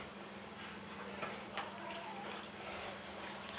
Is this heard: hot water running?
yes